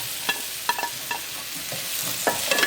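Mixed vegetables sizzle in a hot pan for pulao over medium-high heat, with a spatula scraping and stirring in quick, irregular strokes close by over a constant frying hiss; no voices.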